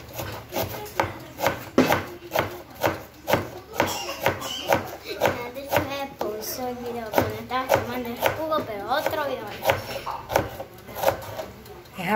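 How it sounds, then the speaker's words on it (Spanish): Onion chopped with a knife on a wooden board: brisk, evenly spaced knocks and scraping cuts close by, repeating steadily, with someone speaking over the later part. "Vamos a picar cebolla."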